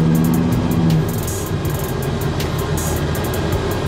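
A 1975 convertible donk riding on Dayton wire wheels cruises along, giving a steady loud broadband road and engine rumble with wind noise throughout, heard up close with no voices.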